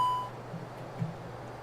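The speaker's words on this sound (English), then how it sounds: "I heard a beep." A single short electronic beep in an Airbus A321 cockpit in a flight simulator sounds at the start, then only a low, quiet hum remains.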